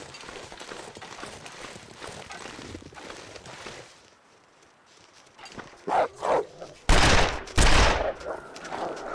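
Revolver shots in the survival video game The Long Dark: after a quiet stretch of rustling, a few muffled pops lead into two loud, sharp gunshot blasts close together, with faint echoing tail and no talking.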